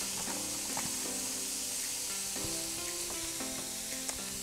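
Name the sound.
zucchini noodles sizzling in a pan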